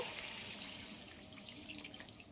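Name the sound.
pouring water into the cooking pan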